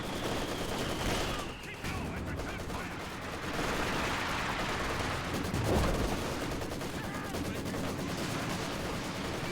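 Dense infantry gunfire in a Company of Heroes multiplayer battle, a continuous roar of overlapping rifle and machine-gun shots with distant blasts, steady and loud throughout.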